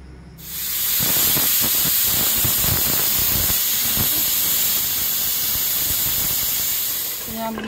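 A pressure cooker cooking mutton for dal gosht lets off a loud, continuous hiss of escaping steam that holds steady for several seconds before easing off at the end.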